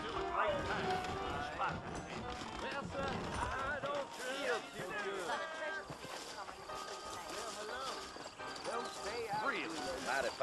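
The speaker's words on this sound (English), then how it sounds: "I got the horses saddled up and ready out front." Saddled horses clip-clop at a trot in a New Orleans scene of the video game Red Dead Redemption, steady hoofbeats running beneath continuous talking.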